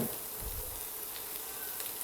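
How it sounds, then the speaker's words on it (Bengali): Chopped onions frying in a pan for Chinese fried rice, a soft continuous sizzle and crackle heard close and steady without a break. "খুব ভালোভাবে ভেজে নেব।"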